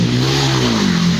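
A steady, droning mechanical hum with a low rumbling growl, rising slightly in pitch, like a worn bearing whirring as a wheel spins.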